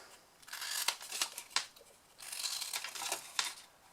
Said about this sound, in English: the larger section, you're going to cut up each one